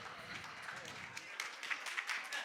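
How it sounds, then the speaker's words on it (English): An audience at an education principals' conclave claps, a faint, distant patter of many hands that keeps going steadily throughout. "Let's welcome him with a big round of applause."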